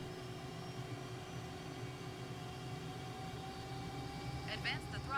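A military jet engine in Microsoft Flight Simulator runs at military power during a takeoff roll, producing a steady, loud, droning roar with constant tonal whine for several seconds and a brief higher burst near the end.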